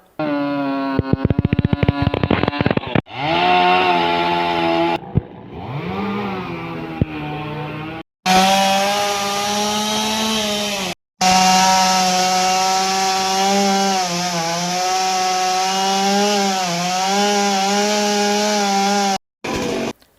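A chainsaw cuts up a large tree that fell onto a house. The motor revs in loud, sustained bursts with short pauses between cuts, close by and with no talk over it.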